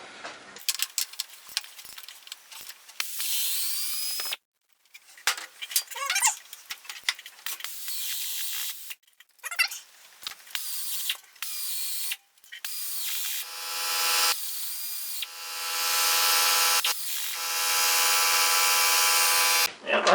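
Hand wrench loosening the bolts on a worn dirt bike skid plate, clicking ratchet bursts in uneven spurts with pauses, a stubborn bolt worked back and forth, then longer sustained squeaky turning near the end, close and alone.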